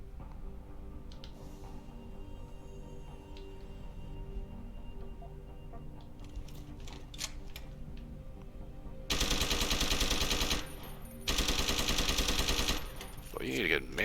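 A heavy rifle fires in Deus Ex: Human Revolution, two long loud bursts of sustained automatic gunfire following quieter clicks and game sounds, with some talk underneath.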